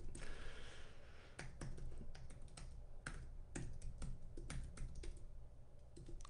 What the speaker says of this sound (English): Let me just actually type it there right now